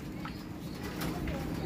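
Pigeons cooing close by, soft low coos repeating over a busy background murmur, with faint bird calls and a hint of movement.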